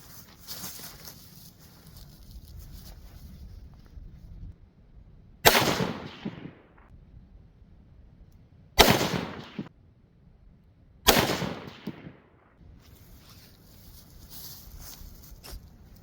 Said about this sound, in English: shoot 3 more rounds out of it